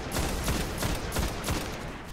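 Vision of Confluence scout rifle firing in Destiny, a rapid series of about five sharp punchy shots in quick rhythmic succession, loud and close, no speech.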